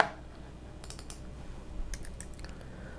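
A few quick bursts of computer keyboard typing as a typo gets fixed during a stock market live chat, light clicky keystrokes in short clusters over quiet room noise.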